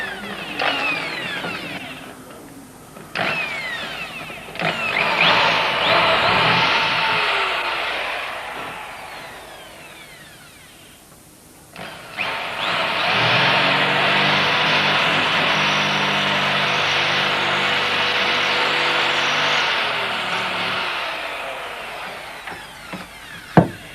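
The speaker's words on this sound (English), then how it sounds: "Let's see if we can get a drill inside as well." A power drill with a masonry bit grinds into hard material in two long runs, loud and close, with a brief pause between them.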